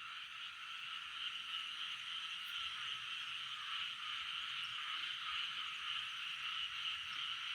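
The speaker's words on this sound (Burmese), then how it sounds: "ချောင်းတွေမြောင်းတွေရှိအောင်ဖားတွေအော်နေ" A chorus of frogs croaks near streams at night, a faint, continuous shrill trilling that holds steady from start to end with no voices.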